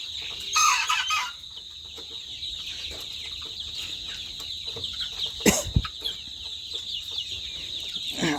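Sonali chickens in a poultry house cluck and squawk, one loud call near the start and another sharp burst midway, with low scattered clucking continuing between over a constant high hum.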